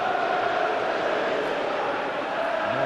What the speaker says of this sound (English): Noise levels rise around Goodison Park